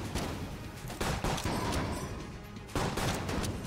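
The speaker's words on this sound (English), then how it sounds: "every shot from the Deckard will freeze and explode" Rapid bursts of gunfire from the Deckard in the video game Enter the Gungeon, with shots that freeze and explode, coming in dense loud volleys separated by brief pauses.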